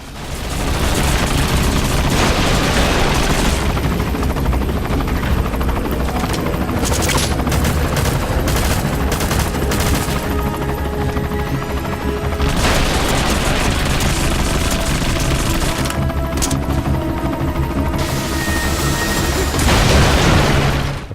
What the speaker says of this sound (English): that is not our helicopter, that's actually an enemy